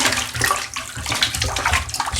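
An aquarium filter sponge is sloshed around in a bucket of tank water, giving close, continuous splashing and swishing with irregular surges.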